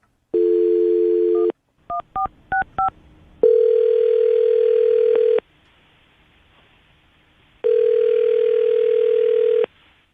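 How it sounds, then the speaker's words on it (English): A loud, steady telephone dial tone plays, then a quick run of touch-tone digit beeps as a number is dialed, followed by two long ringback tones separated by silence. "I'm going to dial the phone number right now and see exactly why she's not getting back to you"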